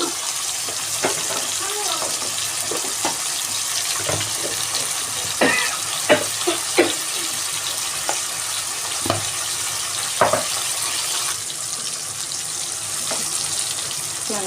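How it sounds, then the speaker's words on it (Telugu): Onions and tomatoes fry for chicken biryani, a constant close sizzle in the pan broken by sharp clinks and scrapes of stirring throughout. "బాగా ఆనియన్స్, టమాటా ఫ్రై అయ్యి"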